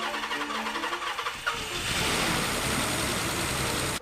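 A Nissan 300ZX twin-turbo engine from a partly rebuilt barn-find car cranks and catches after about a second and a half, then settles into a steady, rough, close idle with no voices.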